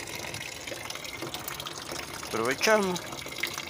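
Tap water runs and gushes as a container fills for a night-time water change for pet turtles on a terrace, steady splashing throughout with a stronger surge near the end, under a woman's speech.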